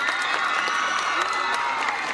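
A live 1992 concert audience applauds and cheers, a continuous wash of clapping, shouts and whoops from a large crowd, loud and sustained throughout.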